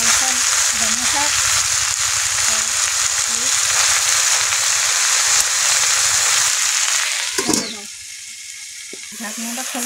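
Red amaranth greens fry in a pan with a loud, steady close sizzle and occasional stirring, then a sharp clatter near the end as the sizzle drops away and grows quieter.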